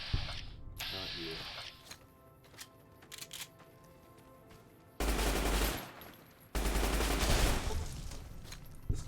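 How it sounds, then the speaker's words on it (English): A powerful gun fires in Fallout New Vegas, with loud sustained bursts of rapid shots in two long stretches after quieter mechanical clicks and handling sounds. "This gun is really fucking powerful."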